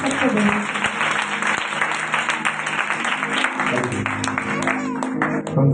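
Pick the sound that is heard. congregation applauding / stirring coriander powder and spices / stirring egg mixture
congregation applauding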